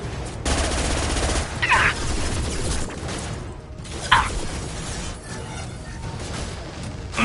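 Gunfire in Mass Effect 2 rattles in dense bursts and fusillades, with sharp impacts and mechanical clatter over a constant rumbling combat backdrop, loud and near.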